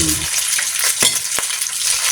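Loud, continuous sizzling of food frying in hot oil, broken by a couple of sharp scraping stirs.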